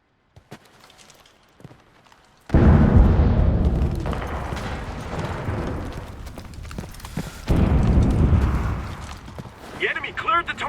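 Explosions go off in the World War II shooter Enlisted during a Wehrmacht battle at a farm in Tunisia: two loud, deep booms with rumbling tails, each lasting several seconds, among game voices and faint clicks.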